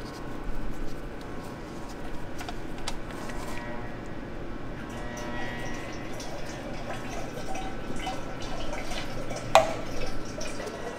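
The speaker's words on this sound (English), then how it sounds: "While the oil is draining, we can start loosening the bolts for the reinforcement tray." Motor oil drains from the oil pan of a BMW E46, a faint, steady trickle and patter of liquid under low background noise with occasional small clinks.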